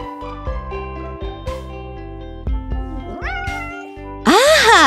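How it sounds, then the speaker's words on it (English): Meowing from a kitten in a children's farm cartoon, a few bright tonal meows scattered among music-like tones, ending in a louder, drawn-out rising cry. "It's a kitten."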